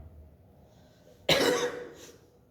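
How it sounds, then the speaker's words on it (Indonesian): A single harsh cough bursts out close by after a quiet, faintly noisy stretch, then trails off with a breathy tail. "Agak batuk-batuk nih Pak"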